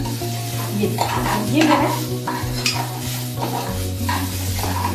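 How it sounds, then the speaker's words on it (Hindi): Kidney beans (rajma) frying in a pan, a close, steady sizzle with spoon stirring and scraping against the pan throughout, while someone speaks briefly over it. "आधा राजमा मैंने डाल दिया, इसको मैं थोड़ा सा फ्राई करूंगी।"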